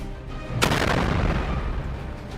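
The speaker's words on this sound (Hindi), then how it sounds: "जैसे ही हूती की मिसाइल जहाज के इस हिस्से पर लगती है, वैसे ही जहाज में जोरदार ब्लास्ट होता है" A Houthi missile strikes a ship and explodes in a single sudden loud blast, followed by a long, rumbling, roaring wash of sound that stays heavy to the end.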